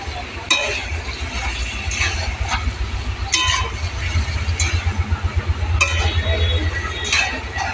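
A spoon scrapes and clinks intermittently while poppy seed paste is stirred into ridge gourd in a pan, over a steady low rumble from the kitchen.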